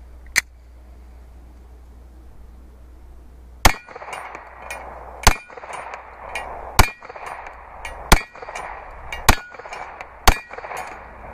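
Gunshots strike a portable steel target, each hit a sharp metallic clang; one lone ring, then a pause, then six more spaced about a second apart, each followed by a short ringing tail over a low background hum.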